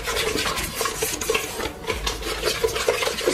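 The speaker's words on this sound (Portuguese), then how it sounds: "É só para incorporar o ovo na margarina." Eggs being stirred by hand into margarine in a bowl for butter cookie dough, with a close, continuous scraping and rubbing rhythm and small utensil knocks against the bowl.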